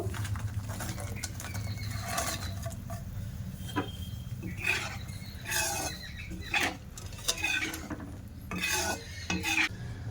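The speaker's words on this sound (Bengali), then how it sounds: "এবার বোঁদেগুলো সব দিয়ে দেব।" Semolina boondi being stirred into hot sugar syrup in a pan off the heat, giving a steady scraping, clinking stir with soft wet sizzle, close and fairly loud, with no talking.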